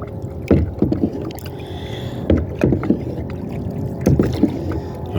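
A small homemade chug boat is rowed with one hand, each stroke giving a splashing knock roughly every two seconds over a background of wind and lapping water.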